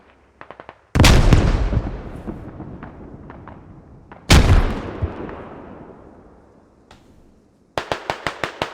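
Airsoft gunfire during an outdoor team match, sharp pops in short rapid strings at the start and end, with two heavy booming blasts whose echoes trail off slowly in between.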